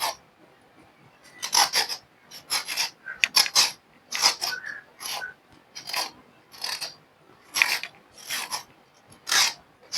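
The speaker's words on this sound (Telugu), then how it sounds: "ఈ విధంగా మనం నీట్గా పైన పొట్టంతా తీసేసుకోవాలి." Rhythmic scraping strokes take the ridged peel off a ridge gourd, a dozen or so short, rasping pulls in quick succession, close and crisp with brief pauses between them.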